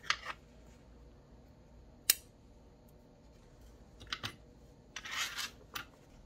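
Scissors snip off excess crochet yarn in a few quiet, sharp cuts spread over a few seconds, close and crisp against near silence.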